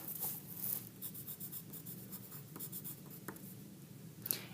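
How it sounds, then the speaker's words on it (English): Pencil writing a name on paper, close and quiet, with short scratchy strokes and brief pauses in an irregular rhythm, no talking. "I'm going to go ahead and put my name on my paper"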